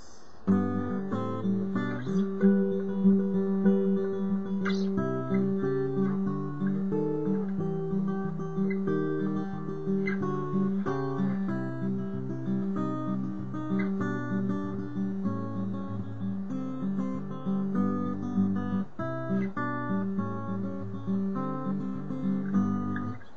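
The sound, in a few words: fingerpicked acoustic guitar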